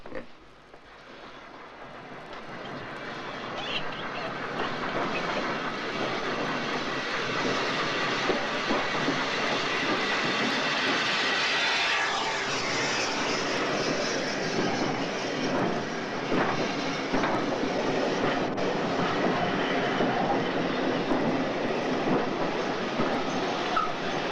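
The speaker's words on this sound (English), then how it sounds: "Oh, the train's just coming in now, Mr. Wicksteed, sir." A train arriving at a station rumbles in, growing louder, its wheels clattering and squealing faintly on the rails as it rolls closer.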